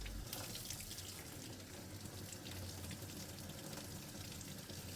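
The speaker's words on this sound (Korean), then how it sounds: "수도가에서 따뜻한 물로 이렇게 적당히 부어주면 됩니다" Warm tap water pours steadily from a faucet to rinse a Philips coffee machine brew group, a constant close hiss and splash with no breaks and no voices.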